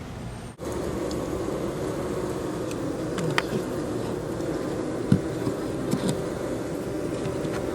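A honey bee colony nesting inside an opened house wall section in Algiers, Louisiana, giving a steady, close, continuous droning buzz with a few faint clicks and knocks over it.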